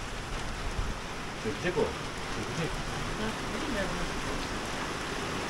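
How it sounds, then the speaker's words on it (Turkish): Steady rain falls outdoors in a rural hillside setting, a constant broadband hiss running through the whole stretch while people speak over it. "Çok güzel bir yağmur başladı yine."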